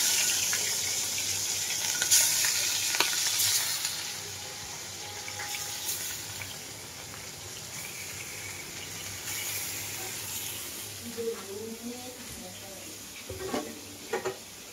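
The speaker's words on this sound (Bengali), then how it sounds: "এগুলো ভাজবো, ভেজে দিয়ে দিব।" Food frying in a pan in a home kitchen gives a steady, moderate sizzle, broken by scattered clinks and brief stirring or water-like splashes near the end.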